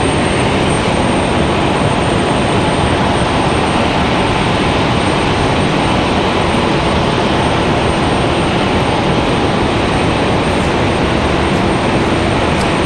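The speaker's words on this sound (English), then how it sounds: "This is that Cessna Citation." A Cessna Citation business jet at Raleigh-Durham International Airport gives a loud, steady engine roar that stays constant and near throughout, with no voices.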